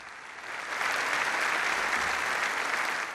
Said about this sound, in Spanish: Recibió una larga ovación de pie